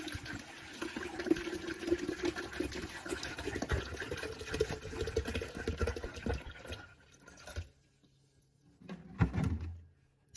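Water from a half-gallon pours into a pitcher for a strawberry wine batch, a steady broadband gush lasting several seconds before stopping, followed by a short clunk or splash near the end, close and moderately loud with no talking.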